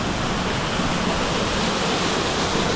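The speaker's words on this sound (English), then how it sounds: "And to the left there, we got a waterfall" A waterfall in a Zion National Park canyon gives off a loud, constant broadband roar of rushing water, close and unbroken for the whole stretch, with no voices.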